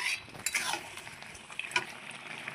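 Raw mango chutney with skin and jaggery is stirred in a pan, with faint scraping and soft clinks of a spoon against metal in a few irregular strokes, quiet and close.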